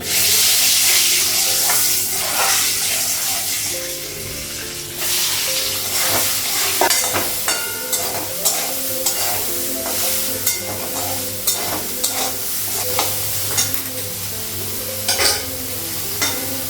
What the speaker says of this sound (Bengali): হলুদ দিলাম, সয়াবিনটা একটু ভেজে নেবো, একটু ভাজবো।